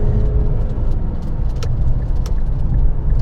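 A 2017 Infiniti Q50 sedan with a 3.0-litre V6 turbo is driven hard, its engine a steady low rumble with road noise, heard from inside the car alongside faint clicks.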